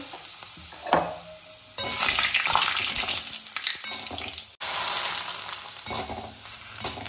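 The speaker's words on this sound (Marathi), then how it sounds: "आपलं तेल गरम झालं की सर्वप्रथम आपण त्यात पोहे तळून घेऊ" Poha frying in hot peanut oil in a kadhai, a broad hissing sizzle that surges in loud bursts and then settles, with stirring and scraping sounds and no talk.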